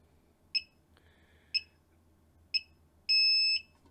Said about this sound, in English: We have the full-time beep.